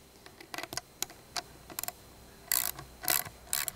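A nut being tightened down on a long eye bolt while assembling a backyard playhouse frame, heard as close, quiet ratcheting clicks and metallic ticks in short irregular bursts, with no talking.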